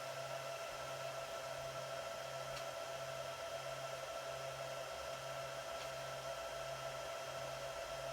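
A Supermicro SYS-E300-8D server's small 40mm fans run at high speed during boot, a steady loud whirring whoosh with a constant tonal whine and no talking.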